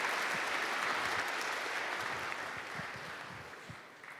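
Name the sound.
audience applause for speaker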